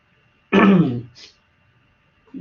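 A single harsh cough or throat clear bursts out close by, followed by a faint second rasp and then quiet.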